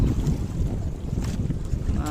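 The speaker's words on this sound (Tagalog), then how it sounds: "grabe ang lakas ng hangin ngayon mga ka-fishing dahil sa bagyong Christine" Steady wind from Typhoon Kristine roaring and buffeting over open sea on a fishing trip, a constant low rumble with gusts, loud and close throughout.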